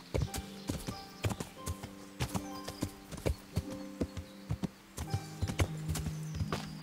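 Horse hooves clip-clop in a steady walking rhythm in the video game Kingdom, crisp repeated hoof strikes over soft game music tones, with no talk.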